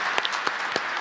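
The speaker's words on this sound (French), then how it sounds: "Un tonnerre d'applaudissements pour Wacket, mesdames et messieurs." A few sparse, sharp claps from a small audience at a live French event, faint and spaced out over about a second, with no talk.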